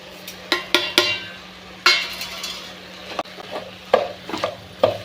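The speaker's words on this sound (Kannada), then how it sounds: "ಫ್ರೈ ಆದಮೇಲೆ ಆಲೂಗಡ್ಡೆ ಹಾಕಿ ಚೆನ್ನಾಗಿ ಫ್ರೈ ಮಾಡ್ಕೊಳ್ತೀವಿ." Potato cubes fry in a pan with tomato, chilli powder, sambar powder and salt for a potato palya, with a steady sizzle and repeated clinks and scrapes of a spoon stirring against the pan.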